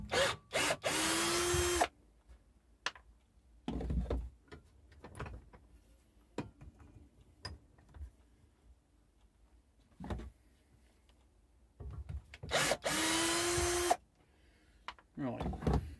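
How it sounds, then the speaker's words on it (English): Screws are undone from the head of a garden fork with a power driver in a few loud, short whirring bursts, separated by quiet gaps with clicks and handling noises. "I'll undo the screws first"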